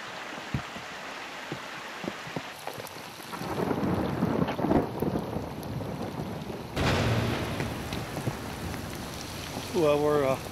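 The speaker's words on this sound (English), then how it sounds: "in the midst of a thunder and lightning storm, the type of which Zeus was so famous for" A thunder and rain storm on the flanks of Mount Olympus in Greece: rolling rumbles and gusty wind noise over steady rain, rising in loudness midway and staying rough throughout.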